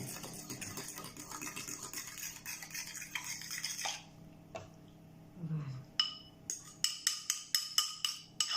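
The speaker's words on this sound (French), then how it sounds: "Je vais mélanger ces 3 œufs à la farine." Three eggs being mixed into flour in a bowl for savory aperitif madeleines: close, steady scraping and stirring at first, then a brief pause and a run of quick, rhythmic clinks of utensil against the bowl.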